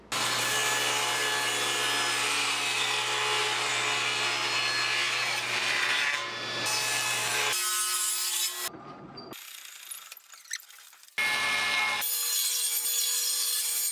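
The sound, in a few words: table saw cutting 3/4 inch plywood French cleats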